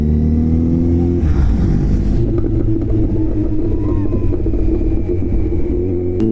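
A high-value car cruising on a good road between Shantiniketan and Massanjore Dam, its engine droning steadily and swelling as it accelerates, close and continuous throughout, with no speech.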